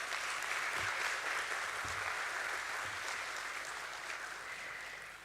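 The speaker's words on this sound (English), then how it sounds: "Let's begin this beautiful morning with a huge round of applause" A crowd at a stock exchange listing ceremony for Borosil Scientific applauds in a dense, sustained wash of clapping that holds steady and tapers slightly toward the end.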